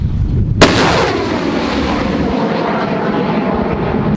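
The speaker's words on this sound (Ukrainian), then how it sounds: "хлопці на градах вже відпрацювали" Grad multiple rocket launchers fire in an artillery strike in the Donetsk region, a sudden loud blast followed by a sustained, dense roar of rockets leaving the tubes, close and continuous with no talking.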